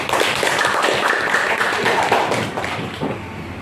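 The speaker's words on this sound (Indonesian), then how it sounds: "Tepuk tangan" Students in a junior high school classroom clap for a group that has just presented, giving a quick burst of close, irregular hand claps and taps that thins out toward the end.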